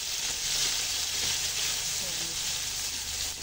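Onion, tomato and chicken liver sauté in a hot pan, giving a continuous, even sizzle and frying hiss throughout, close up, with faint stirring scrapes.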